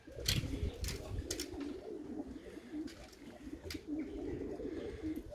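Pigeons cooing in a coop, with soft repeated murmuring calls alongside a few sharper chirps and some rustling, steady and close throughout.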